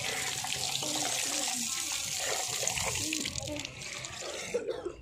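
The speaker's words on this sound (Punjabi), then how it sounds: "ਹੱਥ ਧੋ ਲਈਏ" Water runs steadily from a tap as hands are washed at a gurdwara, a continuous close splashing hiss throughout with faint voices in the background.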